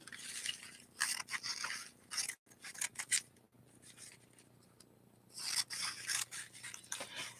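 Scissors cut Christmas paper for an origami German Christmas star: close, crisp snipping and rasping strokes in bursts, with a quieter pause in the middle before the cutting resumes.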